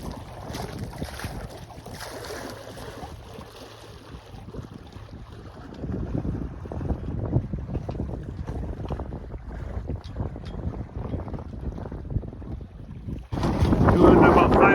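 Sailboat under way near Potagannissing Bay with its engine idling in neutral; steady wind rush and water wash across the whole stretch, louder toward the end, with faint low hull and engine rumble beneath.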